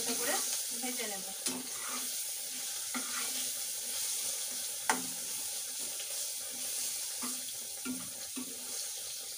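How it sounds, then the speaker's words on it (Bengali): Mango pieces seasoned with salt and turmeric fry gently in a pan, a soft, fairly quiet sizzle broken by occasional sharp clacks of stirring. "দিয়ে আমগুলোকে একটু হালকা করে ভেজে নেব।"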